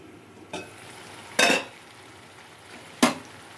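Vegetables and tomato cook in oil in a pan, a soft steady sizzle broken by a few sharp stirring scrapes and clinks of a utensil on the pan, with no voices.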